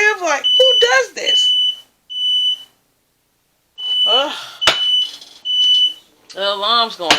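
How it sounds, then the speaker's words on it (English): A smoke or fire alarm beeps repeatedly in sharp high-pitched pulses indoors, sounding between and over stretches of a person talking. "The alarm's going off, y'all."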